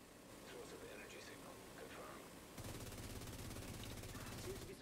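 Video game gunfire as players shoot a boss: after a moment of muffled game noise, a rapid, sustained burst of automatic shots breaks out and keeps hammering steadily to the end, fairly faint overall.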